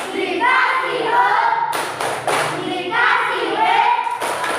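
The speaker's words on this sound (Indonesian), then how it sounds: "Kita kasih tepuk wow dulu." A primary school class claps and chants together in a rhythmic 'tepuk wow' cheer, young voices shouting in unison over a few sharp hand claps, close and lively in a classroom.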